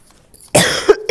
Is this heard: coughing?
yes